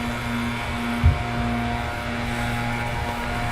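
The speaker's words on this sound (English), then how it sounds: "Typhoon to the south side is now just starting up." A Eurofighter Typhoon jet starting up at RAF Coningsby, giving a steady droning whine with a constant tone under a broad rush, plus one brief thump early on.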